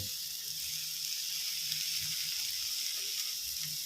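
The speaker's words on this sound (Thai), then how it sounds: "ต้นหอมผักชีหน่อยครับแล้วก็ค่อย ๆ ผัดไปนะครับ" Hoi tod, a Thai fried oyster omelette with bean sprouts, stir-fried in a pan, gives a steady, soft sizzle with faint low scraping throughout, close and continuous with no talk.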